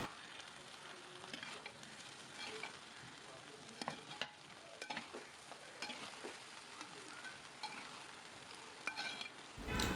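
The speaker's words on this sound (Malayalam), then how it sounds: "ചിക്കനും നമ്മുടെ റൈസും കൂടി നന്നായിട്ടൊന്ന് മിക്സ് ചെയ്യുക" Chicken and rice for chicken pulao stirred together in a pan, a soft steady scrape and shuffle with faint sizzle, fairly quiet throughout with small irregular clicks of the spoon.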